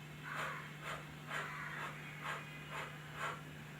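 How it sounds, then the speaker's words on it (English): Rapid, short rhythmic breaths are taken during a labour contraction, with about eight evenly spaced puffs of air heard close up over a steady low hum. "take a deep breath in, and then start your short breathing"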